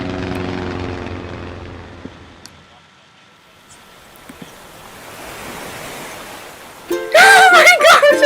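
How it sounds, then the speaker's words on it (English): A charter flight plane arriving at a deserted island in a video game: a low propeller drone swells and fades over several seconds, then a bright, loud melodic jingle cuts in near the end. "The Nook Inc. Getaway Package charter flight will soon be arriving at the deserted island."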